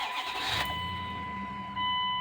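A Dodge Dakota 5.2 V8 Magnum 4x4 fires up with a brief starter crank that catches into a steady running rumble, heard close, with a thin whine above the engine note and a slight rise near the end.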